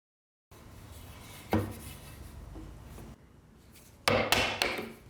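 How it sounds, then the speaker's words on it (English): Chisel strikes chopping a wedge slot beside a mortise in wood, several sharp, close knocks with scraping in between, a louder burst of rapid blows near the end. "I'll chop out the space for the wedge by matching the angle of my layout line."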